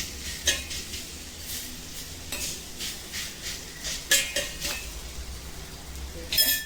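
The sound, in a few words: okra curry sautéing in a hot pan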